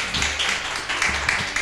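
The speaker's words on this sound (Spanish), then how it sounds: "Denle ese fuerte aplauso, papito Dios." A church congregation claps under live sound, with bursts of hand clapping over a sustained musical or vocal bed and a voice heard along with it, moderately loud throughout.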